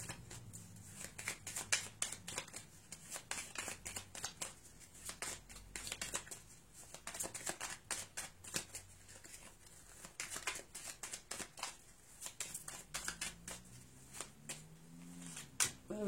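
Gypsy Witch fortune-telling cards shuffled continuously, dense papery riffles and flicks in a steady rhythm, close and moderately loud throughout with no talking.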